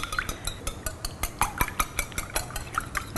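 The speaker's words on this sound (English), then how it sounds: "we're just going to give that a little bit of a whisk" Eggs and milk whisked in a bowl, a quick steady run of light metallic clinks and scrapes close by, with no talking.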